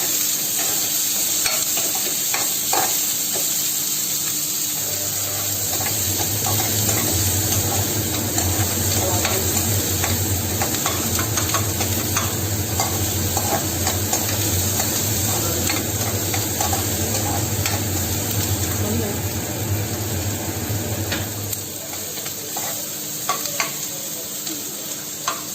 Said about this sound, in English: For 1 minute only, we will saute the onions.